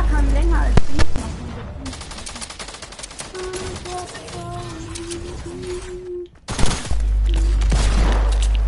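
Gunfire in the video game Fortnite, including sniper rifle shots: loud, sharp cracks and bursts of firing over steady game sound and electronic tones, with a sudden heavy blast near the end.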